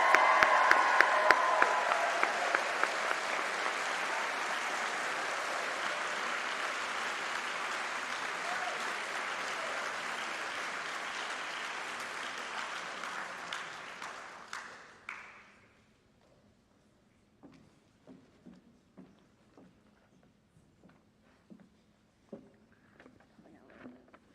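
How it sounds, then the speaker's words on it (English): Applause from the audience at a nursing pinning ceremony for the class of 2023 rings out strong and sustained for about fifteen seconds, then fades into scattered last claps and quiet room noise. "Let's give our class of 2023 one more resounding sound of applause."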